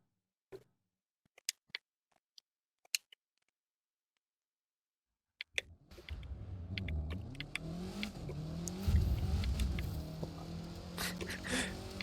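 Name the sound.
car engine revving and driving in video game The Crew 2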